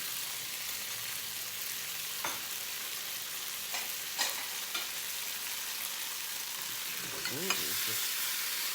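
Shrimp sizzle and fry in a hot pan, an initial fry before they go into a Cantonese lobster sauce, with a steady broadband hiss and occasional stirring clatters and pops, close and continuous without talk.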